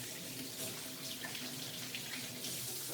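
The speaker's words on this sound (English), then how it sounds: "Now, I have to wash my hands." Water from a tap runs steadily into a sink during hand washing in a home kitchen, a continuous close hiss and splash throughout with no talking.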